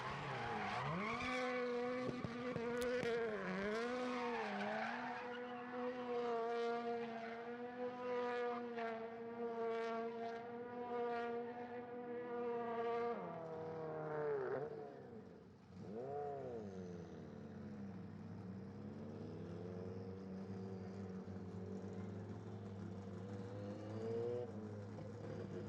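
Travis Pastrana's Family Huckster doing donuts at Sonoma Raceway, a loud engine wailing and revving with rising and falling pitch over sustained tyre squeal, continuing alone throughout.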